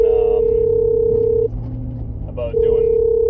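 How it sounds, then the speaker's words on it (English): A phone rings with a steady electronic tone that cuts off partway, leaving a brief gap with faint room noise before the tone returns, clear and close. "sorry, my phone is ringing at me here, hang tight."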